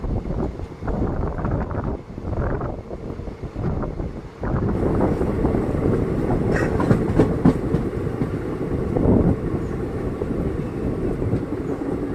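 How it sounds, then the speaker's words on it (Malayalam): A Kannur–Mangalore passenger train rolls through Kasaragod district in Kerala, heard from on board as a continuous loud rumble with rhythmic clattering of wheels and gusts of wind buffeting the microphone. "നമ്മളിന്ന് സഞ്ചരിക്കുന്ന ഈ കണ്ണൂർ മാംഗ്ലൂർ പാസഞ്ചർ കാസർഗോഡ് ജില്ലയിലെ എല്ലാ റെയിൽവേ സ്റ്റേഷനിലും സ്റ്റോപ്പുള്ളൊരു ട്രെയിനാണ്"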